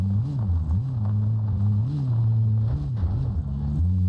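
Car engine driving in the Warzone video game, a steady low droning hum that rises and falls in pitch with throttle, close and continuous.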